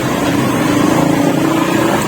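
A 1997 Yamaha Grand motorcycle engine held at a steady rev, a loud, close, buzzing drone with no pauses and no talking.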